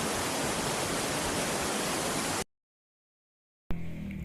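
Cold, clear river water at Ubot Falls eco park in Barangay Maria Aurora rushes in a loud, steady broadband roar, cuts to silence for over a second, then returns more softly.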